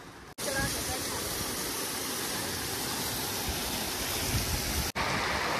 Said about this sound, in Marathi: सुंदर असं पाणी, धबधबा आपण पाहू शकत पाहत आहोत.